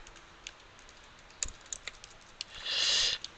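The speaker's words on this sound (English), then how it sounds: "Let's go ahead and start typing." Keystrokes on a computer keyboard: scattered sharp clicks at an uneven pace, fairly close and quiet, ending in a brief rustling burst.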